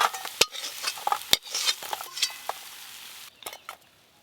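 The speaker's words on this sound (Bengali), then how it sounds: "এই যে মশলার সঙ্গে কাঁকড়াগুলো ভাজা হচ্ছে না, এতেই টেস্টটা বেড়ে যাবে।" Crabs fry with spices in a pan, giving a crackling sizzle broken by sharp clinks and scrapes of a metal spatula that fade to sparse taps near the end.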